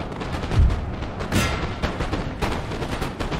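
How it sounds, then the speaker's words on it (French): Massed musket and artillery fire from the Battle of Austerlitz in Napoleon: Total War rumbles as a dense, continuous volley, with a few heavier booming reports standing out. "Chacun tire sur son voisin."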